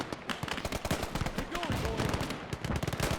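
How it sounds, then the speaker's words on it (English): A .30 cal machine gun fires in the World War II video game Gates of Hell during a Battle of the Bulge fight, rapid dense bursts of gunfire mixed with other battle noise at steady loudness. "Check out this 30 cal. Laying it down."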